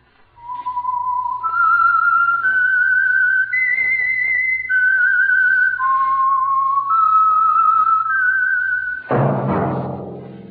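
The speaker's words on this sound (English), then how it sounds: "That whistle is your signal for the Signal Oil Program, The Whistler." A loud, sustained whistled tune of several held melodic notes rising and falling, the signal theme of The Whistler, a Signal Oil radio program, played alone before a burst of orchestral sound near the end.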